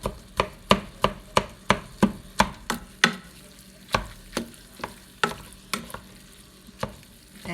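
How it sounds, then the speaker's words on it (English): Ground chicken frying in a pan for sloppy joes is stirred and broken up with repeated sharp scraping taps against the pan, about two per second at first and then slower, over a faint sizzle. "and it's cooking, I'm just making sure that all the little chunks are broken up"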